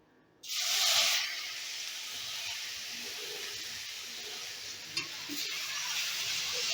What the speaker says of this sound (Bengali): এবারে গ্যাসের আস্তা লোতে রেখেই আমি গাজরটাকে হালকা করে ভেজে নেব